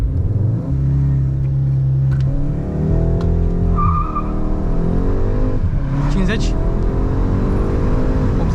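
Skoda Octavia 4 exhaust in Sport mode during a full-throttle launch from the brake, engine droning then rising steadily in pitch through gear changes, loud and close with tire noise and someone speaking over it.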